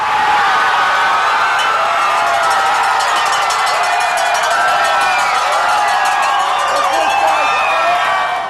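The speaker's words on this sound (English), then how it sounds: "they haven't stopped cheering since." A large crowd of Boston Red Sox fans cheers and yells outdoors after the 2007 World Series win, a loud, sustained roar with shouting, a cowbell-like clanking and excited voices all the way through.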